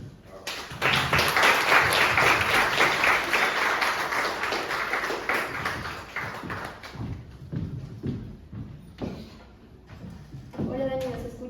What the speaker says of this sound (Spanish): Los podemos recibir con un fuerte aplauso.